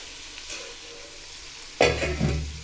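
Mint and green chilies for biryani are stirred into hot oil, a quiet scrape early on followed by a sudden loud sizzle as they hit the pan, settling into steady frying.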